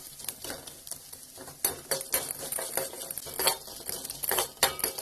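Ragi flour frying with onions in a pan, a soft sizzle broken by irregular scraping and clattering stirs that come in bursts of varying loudness.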